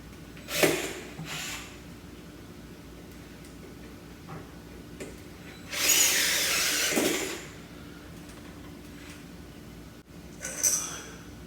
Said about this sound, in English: My mechanical screwdriver.